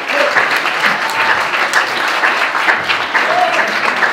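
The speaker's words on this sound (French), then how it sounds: "que je vous demande d'applaudir aussi." Steady applause from an audience at a French theatre prize ceremony, dense and sustained clapping at close range throughout, with faint voices murmuring underneath.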